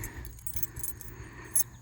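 A set of keys for a 1979 Chevrolet Malibu wagon project car jingles softly as it is pulled out of a zippered pocket, with a brief brighter clink near the end.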